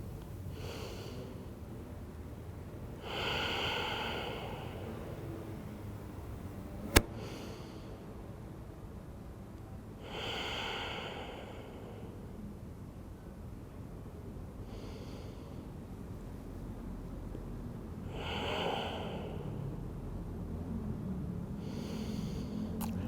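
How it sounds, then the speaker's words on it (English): Slow deep breaths during a yoga flow, four long airy inhales and exhales spaced several seconds apart, close and fairly quiet over a faint steady background hiss, with one sharp tap between them. "4 deep breaths."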